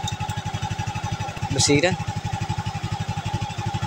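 A Suzuki Raider J motorcycle with a knocking engine and smoky exhaust runs at a steady, throbbing idle up close, its rapid even pulses continuous throughout, with a brief word spoken over it partway through.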